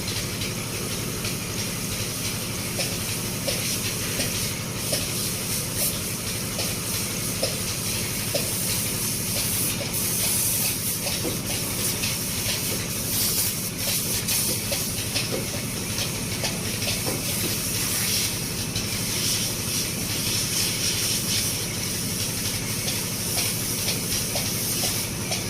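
The fuel pump motor on a Foton dump truck runs with a steady, loud hissing drone that holds unchanged throughout, with no talking.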